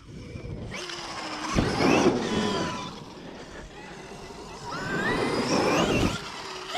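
An X-Bug buggy with its stock engine and a 2.55 primary gear ratio pulls away, a steady mid-pitched engine drone rising in two surges with some tire and road noise, close by and without talking.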